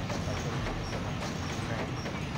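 In the Sonic Adventure 2 video game, a passing train gives a steady, broad rumble with a soft repeating clickety-clack, holding even for a couple of seconds with no break.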